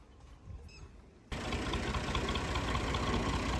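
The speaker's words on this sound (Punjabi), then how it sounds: "ਲੋ ਜੀ ਟਰੈਕਟਰ ਨਿਕਲਿਆ ਬਾਹਰ," A tractor engine starts up and drives out, its steady mid-range rumble rising abruptly and staying loud and close, with faint quieter sounds before it.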